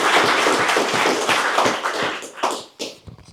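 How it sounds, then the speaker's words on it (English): Audience applause for a speaker, close and fairly loud dense clapping that thins out into a few scattered claps near the end. "Another round of applause for Mark Wilson."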